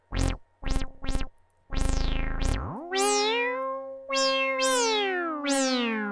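Behringer ARP 2500 synth modules producing yowling, cat-like tones: three short bright blips, then a long rising sweep and several swooping meow-like glides with a falling pitch, fairly loud and alone.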